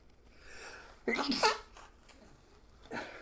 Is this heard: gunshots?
no